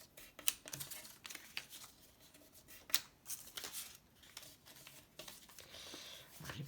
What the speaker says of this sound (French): Donc, je marque mes plis